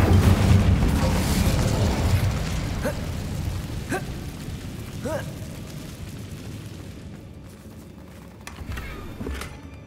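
Incendio fire spell cast in Hogwarts Legacy, heard as a few sharp whooshing bursts of flame about a second apart over a continuous rumbling game background.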